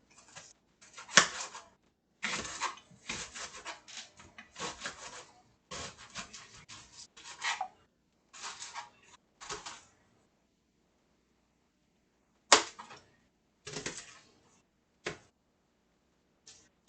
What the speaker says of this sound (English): je vais cut this onion.